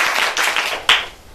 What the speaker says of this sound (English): Another round of applause for Happy